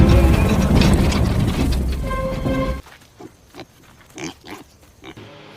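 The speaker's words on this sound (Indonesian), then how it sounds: "isi dari peti tersebut adalah seekor babi" A pig grunts and snorts inside a wooden crate, loud and rough at first, then a clunk gives way to a quieter stretch of scattered knocks and short grunts.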